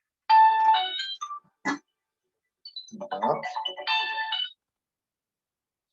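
A telephone rings with an electronic ringtone, two short bursts of bright tonal chirps separated by a pause, close and clear. A brief spoken word comes between them.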